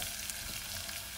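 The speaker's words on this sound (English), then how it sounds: "I am just going to put in the butter" Butter hitting a hot frying pan while chicken wings cook, giving a steady soft sizzle and crackle at close range with a brief sharper spatter at the end.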